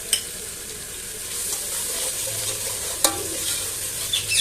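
Whole garam masala spices, black pepper, cinnamon pieces and cloves, frying in oil in a pan for mash dal, with a steady soft sizzle, occasional stirring scrapes and small pops, close up and without talking.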